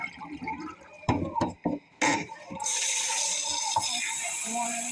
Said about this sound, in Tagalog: More cold water.